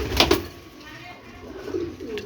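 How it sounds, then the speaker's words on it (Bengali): A pair of teddy pigeons coo softly in short, low bursts against a murmuring background with faint voices. "টেডি কবুতর"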